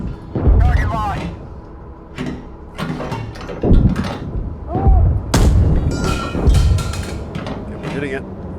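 Tank main gun blasts from the PC combat game Gunner Heat PC, several heavy booming shots spaced through the stretch, loud and close, mixed with engine rumble and mechanical clatter while crew voices call out commands over them.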